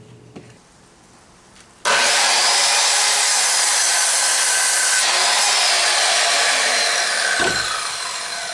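A power saw cuts wooden support pieces for a garage stool, starting abruptly after a quiet moment and holding a loud, continuous buzzing rasp close up, with a brief change in pitch near the end.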